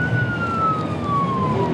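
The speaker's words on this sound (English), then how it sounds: "turn your lights and sirens off for now, fellas" A police car siren wails steadily during a pursuit, its sweeping tone gliding slowly downward over a continuous rumble of road and engine noise, moderately loud and unbroken.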